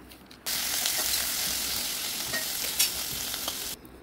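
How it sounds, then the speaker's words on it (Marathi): Chopped ivy gourd (tondli) sautéing in oil over a low gas flame, a steady close sizzle with faint stirring scrapes that starts abruptly and cuts off near the end. "तोंडली 2 ते 3 मिनिटं तेलावर परतून घेऊ"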